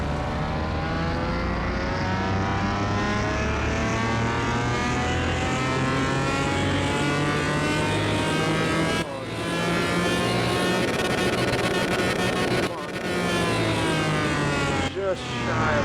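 Heavily modified supercar engine of about 1,000 horsepower, revving on a dyno in Car Mechanic Simulator 2021: a sustained, loud, rising roar that runs through the whole stretch with two brief dips, building steadily as the revs climb.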